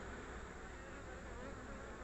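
Honey bees hum in a continuous, dense, low buzz at an open hive brood nest, the droning faint but unbroken, with no talking.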